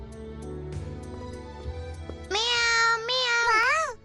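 A cartoon kitten gives two bright, drawn-out meows, loud and close, after a stretch of quiet background sounds.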